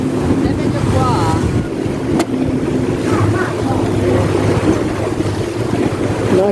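Choppy sea waves slap around a submarine tour boat off Cagliari, a steady rushing wash mixed with engine rumble and wind buffeting the microphone, with a few voices faintly audible over the water.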